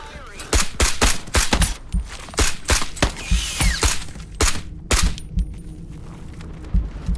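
Repeated pistol shots and weapon handling in Into The Radius 2 ring out in a steady series of sharp, loud cracks, with mechanical clicks mixed in and a voice talking underneath.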